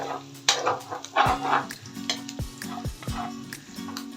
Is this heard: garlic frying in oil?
yes